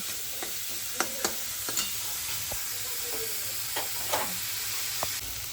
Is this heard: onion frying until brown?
yes